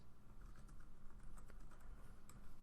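Quick, faint clicking of keys on a computer keyboard, a steady patter of typing heard close and alone at low volume.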